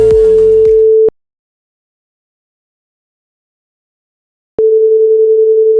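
A telephone ringback tone sounds while a call is placed, a steady single-pitched tone near and loud, stopping for a few seconds of silence before sounding again.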